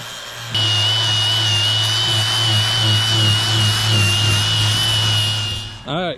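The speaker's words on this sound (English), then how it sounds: "Gonna get this grinded down with the grinder and then grind up the center console" An angle grinder working down a fiberglass center console on a boat build, a steady close, loud whine with a strong low drone held for several seconds before cutting off.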